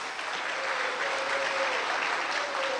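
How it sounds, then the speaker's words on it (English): Banquet audience at a Tampa Bay sports hall of fame dinner applauds Tommy Tonelli, a steady, full room of clapping at moderate volume, with a faint tonal hum running underneath. "I'd love to give him a round of applause if you don't mind."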